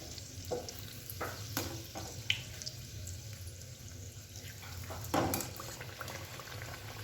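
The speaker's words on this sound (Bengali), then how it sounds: "আমি এক একে লুচিগুলো সব ভেজে নেব।" Luchi flatbreads deep-fry in oil with a soft, low bubbling sizzle, broken by occasional scrapes and clinks of a slotted spoon against the pan, fairly quiet and steady throughout.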